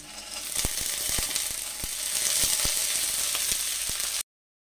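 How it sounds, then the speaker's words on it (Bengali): Shredded coconut sizzling steadily in a hot pan while green pea ghugni cooks, with a spatula clicking against the pan at irregular intervals. The frying is close and fills the clip until it cuts off abruptly. "এবার আমি নারকেল কুচিটা দিয়ে দিচ্ছি।"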